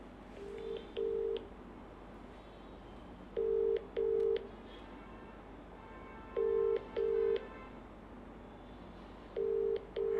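A phone call placed to a personal number, with soft quick keypad beeps early on, then four evenly spaced pairs of ringback tones repeating over a quiet background hum.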